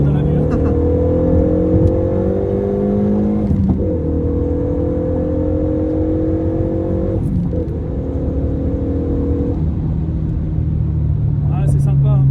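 A Stage 1 Renault Megane 3 RS Cup rated at 315 hp, heard from inside as the engine pulls hard through the revs in steady rising sweeps, with brief drops between gear changes and a constant loud drone.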